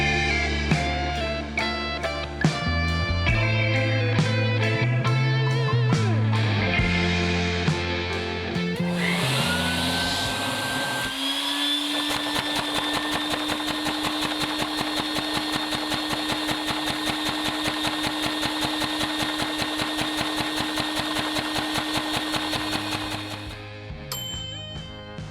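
A vacuum-powered LEGO Briggs & Stratton engine model with shortened valve lift runs as a steady whirring hum with fast, even ticking that holds for most of the stretch. Music-like tones come before it.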